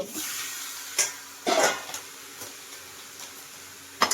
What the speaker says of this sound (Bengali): এবার এর মধ্যে দিয়ে দেবো এই যে ধুয়ে রাখা মাংস